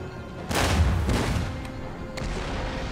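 Cannon artillery fires in the video game Empire: Total War, with a loud, close boom that rolls off into a rumble, followed by a sharper distant report about two seconds later.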